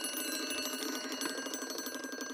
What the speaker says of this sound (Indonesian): Itu alarm pemadam.